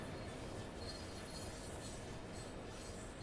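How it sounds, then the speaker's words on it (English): A Class 66 diesel locomotive hauls a container train into a station in a train simulator game, heard as a quiet, distant rumble with faint wheel squeal and rolling noise. "Oh, I can hear a Class 66 somewhere."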